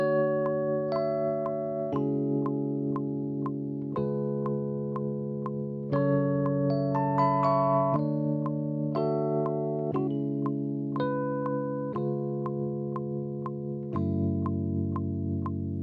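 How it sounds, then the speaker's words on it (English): Sustained R&B keyboard chords change every two seconds in a slow progression, with brief higher bell-like notes sparkling on top. "first thing is building up the keys, and we got a progression going"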